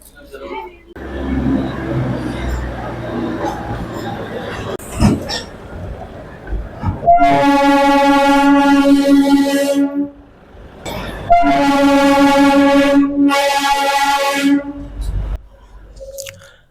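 The Darjeeling narrow-gauge toy train runs with a steady mechanical chug, then two long, loud horn blasts sound a few seconds apart, with voices talking in the background.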